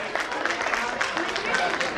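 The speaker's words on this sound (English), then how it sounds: "Can we have a huge round of applause for her, ladies and gentlemen?" Applause from an audience at a school annual program of an English language institute in Shalimar Bagh, New Delhi, a steady wash of clapping mixed with crowd noise.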